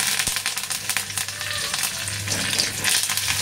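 Cumin and mustard seeds with curry leaves sizzle and crackle in hot oil in a pan for a ridge gourd dish, a bright continuous frying hiss with small pops, close and without speech.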